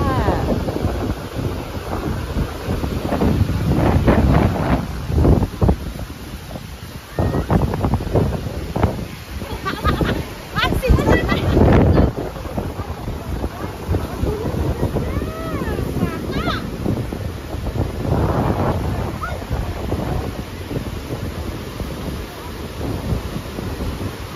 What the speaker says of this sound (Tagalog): lakas ng alon dito sa kabila